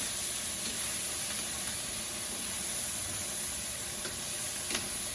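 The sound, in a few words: vegetables sizzling in a hot pan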